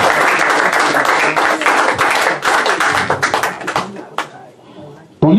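A church congregation claps loudly and calls out in praise to God during a sermon. The dense applause and shouting fade over a few seconds and then stop abruptly.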